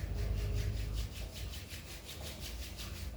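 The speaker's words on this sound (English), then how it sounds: "Rub your both palms." Palms rubbed briskly together during a yoga class, a steady swishing friction with regular back-and-forth strokes, close and moderately loud, heard alone.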